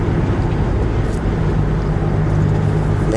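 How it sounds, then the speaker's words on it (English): A wheelchair-accessible Dodge Caravan cruises at around 60 to 65 mph, giving off a steady, loud, low engine and road drone that holds even throughout, with no talking. "Van runs smooth."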